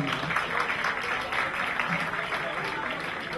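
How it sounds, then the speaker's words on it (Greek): A crowd applauds steadily at a beauty pageant event, dense sustained clapping that fills the room, with some voices mixed in. "Ένα καιρό χειροκροτήμα και χειροκροτήμα."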